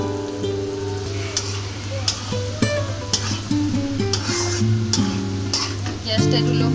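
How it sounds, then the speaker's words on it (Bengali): Ground chana dal for halwa frying in hot oil, a steady close sizzle broken by repeated scraping and clinking stirs, with faint background sounds. "বেটে রাখা ডাল ওই গরম তেলে দিয়ে দেব।"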